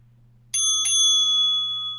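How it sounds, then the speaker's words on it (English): A notification bell rings twice in quick succession, bright and clear, the second ding overlapping the first as both ring on and slowly fade over a low steady hum. "And so you can hear that wonderful notification bell ding, Ryan."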